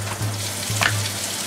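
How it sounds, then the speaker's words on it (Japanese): Vegetables and meat stir-frying in a pan, a steady soft sizzle running throughout with a brief brighter crackle of stirring near the middle, fairly close and moderately loud, no talk. "私いつもこういうのはね、 野菜と肉は別々に炒めますね。"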